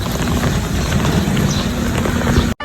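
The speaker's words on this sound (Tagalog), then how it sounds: "Sobrang lakas ng ulan." Dense, steady roar of heavy rain pouring down, loud and continuous with no voices, cutting off abruptly at the very end.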